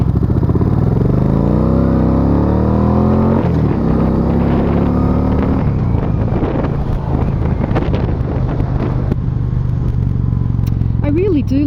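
A 2007 or 2009 motorcycle with a few thousand dollars of modifications runs with a steady, loud engine drone, rising in pitch as it revs, under strong wind noise throughout.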